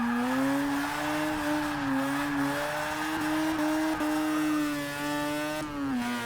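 Rotary-engined Toyota in Forza Motorsport 6 revving hard, a loud, buzzy, high-pitched engine note that rises and dips with quick gear changes and throttle blips.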